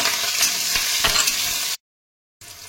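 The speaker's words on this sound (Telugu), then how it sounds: "ఎండుమిరపకాయలు, అలాగే కొద్దిగా ఆనియన్స్, అలాగే కరివేపాకు వేసి కొద్దిగా వేయించుకోవాలి" Dried red chillies, onions and curry leaves sizzle and fry loudly in a pan for crab masala curry, a steady hiss with faint stirring, cutting out abruptly to silence before the frying resumes.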